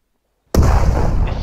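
A grenade explosion in the Vanguard: Normandy 1944 World War II shooter bursts in suddenly from silence, a loud, close blast with a deep rumbling tail that stays heavy to the end.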